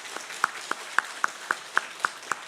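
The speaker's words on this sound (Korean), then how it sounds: "우리 이병선 시장님, 인사하실 때 우리 큰 박수로 환영해 주시기 바랍니다." A church congregation claps to welcome the mayor during a Sunday worship service, a steady, rhythmic unison beat of about nine claps, fairly faint and without talk.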